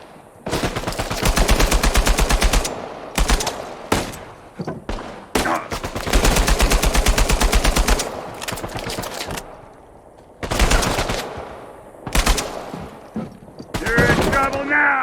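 Video game gunfire in Uncharted 4 while shooting enemies, loud sustained bursts of rapid automatic fire broken by short pauses and single shots, with voices shouting in the mix.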